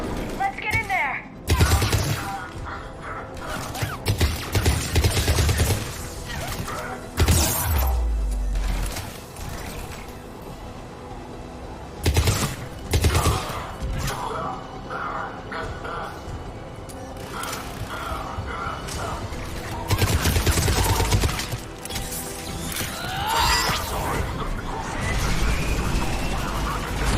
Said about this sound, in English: The checkpoint is under fire!